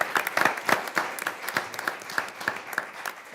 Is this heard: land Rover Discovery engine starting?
no